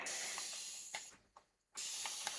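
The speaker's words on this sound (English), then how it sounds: "I'm just going to spray some water onto it" A spray bottle sends a fine water mist onto a coloring-book page in bursts of soft, close hiss, with a short pause in the middle before the spraying resumes.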